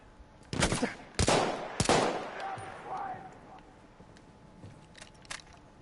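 Gunfire in the video game Battlefield 1 on PS4, in a street fight with a shooter firing from up high: three loud, close bursts of shots about half a second apart, then a fading rumble and scattered quieter noise.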